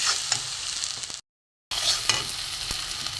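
Garam masala is stir-fried in a pan for vegetable khichuri, giving a close, steady sizzle with scraping stirs that briefly cut to silence midway before resuming.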